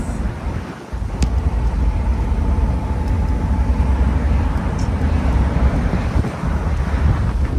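A 1957 Ford Thunderbird cruising on the road, a steady broadband rumble of engine and wind noise that stays loud and even throughout, with a brief dip near the start.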